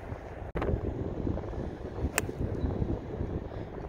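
Strong gusty wind on an open golf course buffets the microphone in a continuous low roar, with a couple of sharp knocks and a sudden brief dropout partway through.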